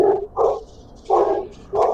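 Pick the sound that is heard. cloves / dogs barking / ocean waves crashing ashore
dogs barking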